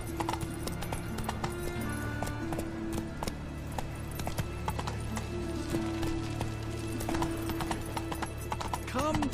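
Roach, Geralt's horse in The Witcher 3, trots with a steady, close clip-clop of hooves, rhythmic and clear under a low game soundscape with occasional background tones.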